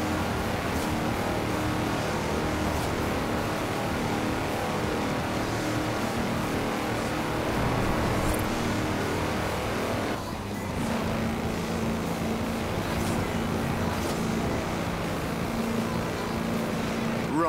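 A tractor on four-inch mud tyres tears along at high speed in Forza Horizon 4, its engine a steady, loud, continuous drone that holds level throughout with no pauses.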